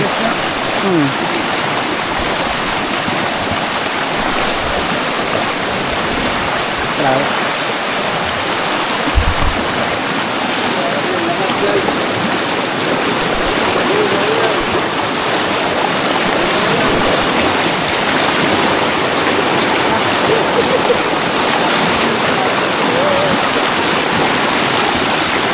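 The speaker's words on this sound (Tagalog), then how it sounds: "Lakas ng tubig." Strong rushing water pours steadily through a lagoon, a loud continuous wash like a stream or small waterfall that fills the whole stretch without pause.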